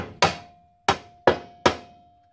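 Four crisp taps of a soft hammer on parts of a classic Victa lawn mower during restoration, sounding close and distinct: one strike, a pause, then three evenly spaced blows, each ringing briefly.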